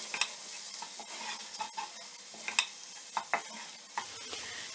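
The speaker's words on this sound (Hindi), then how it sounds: "धीमी आंच करके मैं मैदे को भी भूनूंगी मीडियम टू लो फ्लेम के ऊपर" Maida flour roasts in a pan over a medium-low flame, stirred with a series of scraping strokes and small clicks over a soft, faint background and no voices.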